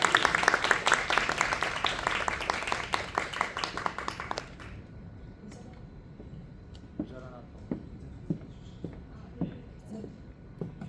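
Applause from the audience at a press conference for World Voice Day in a Gangnam venue fills the first few seconds loudly. It then fades to a quiet room with scattered taps and faint murmuring.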